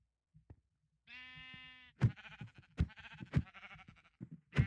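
Sheep in a video game bleating up close: a sustained, quavering bleat followed by several shorter bleats and thumping game sounds, no talking.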